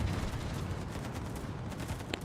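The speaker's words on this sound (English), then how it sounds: "Whoa, why are you shooting at me? The Mecklenburg shooting at me." A warship, the Mecklenburg, fires its guns in a naval video game as a dense, rumbling barrage of overlapping low booms. The volley rolls on steadily and fairly loud for the whole stretch, with no talk over it.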